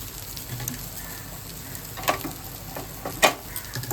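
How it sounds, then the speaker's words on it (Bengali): A steady, moderate sizzle of egg curry in a kadai, with fried eggs tipped in. A couple of sharper splashy crackles rise briefly above the frying. "এবার এটা ডিমের ঝোলে ঢেলে দেবো।"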